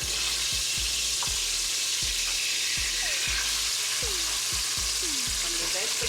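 Vegetables frying in hot oil for Jamaican brown stew chicken, a dense steady sizzle close by with rhythmic spoon knocks against the pot and faint talking.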